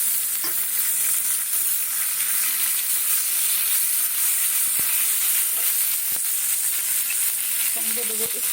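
Mustard seeds and curry leaves sizzling in hot oil in a pan, a steady bright hiss and crackle running continuously, close and loud, with occasional soft clicks of stirring.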